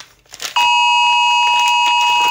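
Sudden electronic alarm tone from an iPhone in a classroom, a piercing steady beep starting abruptly after faint rustling and continuing loud and unbroken.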